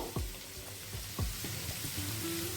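Paneer being stir-fried in a pan for mixed fried rice: a continuous soft sizzle broken by several sharp metal spatula knocks and scrapes.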